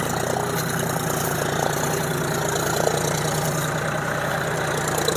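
A John Deere 5050 D 4WD tractor idles out in a farm field, its engine giving a steady, loud, even rumble with a faint rapid knock throughout and no voices.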